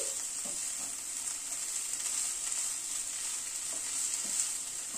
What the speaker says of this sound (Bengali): সব দিয়ে একটুখানি নাড়াচাড়া করে নিচ্ছি